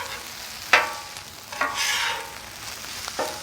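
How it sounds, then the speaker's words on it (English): Ham fried rice stirred on a Pit Boss Deluxe griddle, with a few sharp scrapes and clacks of a spatula over a low, steady sizzle, close by and quiet. "And we're just gonna kind of mix that all in right now."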